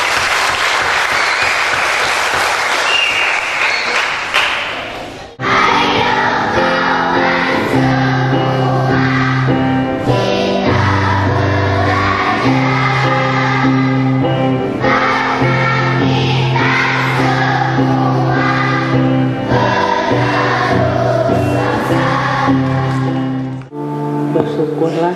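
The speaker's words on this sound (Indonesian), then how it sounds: "Tepuk tangan untuk kita semua." An audience at the 2012 Tasik film festival claps in a burst of loud, dense applause for about five seconds before it gives way to music.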